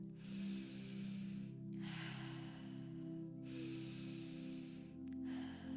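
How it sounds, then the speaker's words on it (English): Breathwork session of slow breaths drawn in through the nose and let out through the mouth, with four long airy rushes each lasting about a second and a half, close and soft over a quiet low musical drone. "We'll be breathing in through the nose and out through the mouth today."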